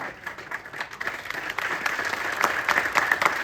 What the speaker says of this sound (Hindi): एक बार ऐसे महान इंसान के लिए तालियां तो बजा दो